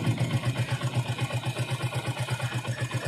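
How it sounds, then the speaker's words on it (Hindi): A Bajaj Pulsar 135cc motorcycle engine idles close by with a steady, pulsing low thump and a faint mechanical whir above it. The rhythm is even and there is no speech. "बाइक मेरा फाइनली स्टार्ट है, बंद भी नहीं हो रहा है।"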